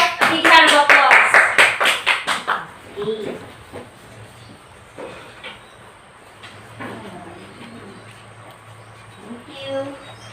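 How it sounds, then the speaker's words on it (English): A brief burst of applause from a small group in an elementary English class, rapid claps lasting a couple of seconds, followed by quieter room noise and faint voices. "Give yourself a big hand of applause."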